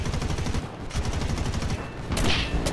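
War Thunder aircraft guns, a big plane with a heavy gun, fire in rapid repeating bursts, loud and close with a steady rattling rhythm and a whooshing swell near the end.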